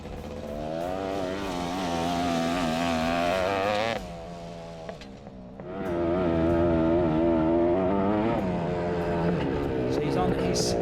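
An ATC 250 three-wheeler races flat out on a dirt track. The loud, buzzing engine holds high revs, dips briefly, then screams back up to full throttle.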